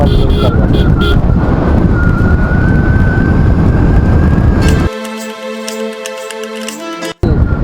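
A car overtakes on the NH-83 four-lane highway between Nadaul and Jehanabad: a loud, steady rush of road and wind noise with a long sustained horn-like tone, then it cuts abruptly to music.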